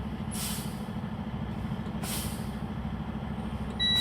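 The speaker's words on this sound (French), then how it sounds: "Je pompe le frein de service pour abaisser la pression." A truck's service air brake is pumped to bleed off pressure, two sharp hissing bursts of released air about a second and a half apart, loud and close over a steady rumbling diesel idle.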